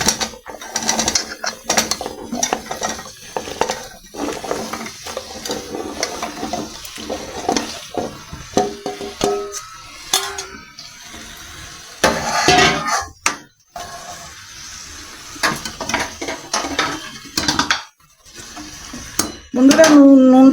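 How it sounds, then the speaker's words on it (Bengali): Chopped bottle gourd is tipped into a pan of cooked-down spices and stirred, giving a busy run of metal scrapes, clinks and sizzling clatter with brief pauses, loudest near the end, and no talk. "লাউটা দিয়ে দিচ্ছি।"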